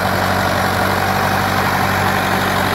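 A 1986 Massey Ferguson 265 tractor, made in England, idles steadily up close with a loud, even diesel rumble and a constant hum, no talking over it.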